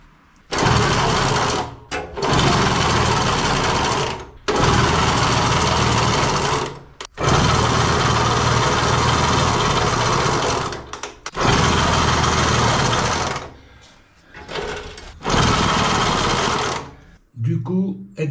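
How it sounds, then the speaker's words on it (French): An old Motobécane AG2 moped engine with worn crankshaft bearings runs in several bursts, a loud, high, rattling buzz cutting out and restarting repeatedly, with a voice speaking over parts of it. "On entend le bruit du moteur, c'est un vrai moulin à café. C'est les roulements du vilebrequin qui sont foutus."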